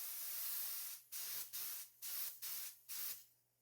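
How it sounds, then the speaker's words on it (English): Colour sprayed onto a plated dessert with a spray gun in several short hissing bursts, one long blast then quick pulses separated by brief pauses, close and steady over a faint hum. "When you spray, you always need to do a movement."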